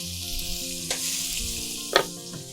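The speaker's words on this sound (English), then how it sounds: "I'm gonna cut just a small amount of onions, and onions goes in." Chopped onions sizzle steadily in a hot pan for a carbonara sauce with white wine, a close, continuous frying hiss broken by a couple of brief sharper crackles.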